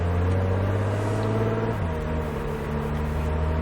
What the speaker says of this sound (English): go ahead and roll on that throttle, go ahead and shift up